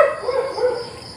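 Dogs on a farm in Laguna bark and yip in a short, close burst with no talking.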